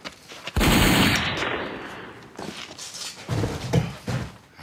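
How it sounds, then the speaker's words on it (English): Gunfire in a comedy sketch as a man is shot: a loud, sustained burst of rapid shots erupts and fades over about two seconds, followed by a few scattered sharper bangs. "Shoot him!"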